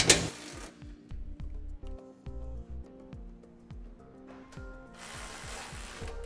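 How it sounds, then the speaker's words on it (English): Rapid ratchet clicks in repeated bursts as an 11/16 socket tightens the hitch bolts on a Curt trailer hitch receiver being fitted to a 2013 Volvo XC70, close and clear with short pauses between strokes. "we'll go ahead and take our 11/16 and tighten it down"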